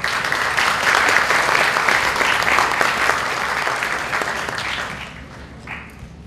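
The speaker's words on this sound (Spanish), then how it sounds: "Recibamos con un fuerte aplauso a Santiago Rocagliolo" An audience at a literary event at a university breaks into loud, sustained applause that fills the room, then thins out and fades toward the end as a few last claps linger.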